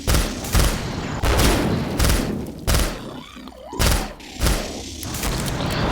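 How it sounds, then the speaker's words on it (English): Bursts of Mag-10 gunfire in the video game Killing Floor, several loud rapid volleys separated by short pauses, with a heavy thumping low end and a faint electronic tone between shots. "The other weapon that you might say works for killing husks is the Mag-10, but it has such a great recoil"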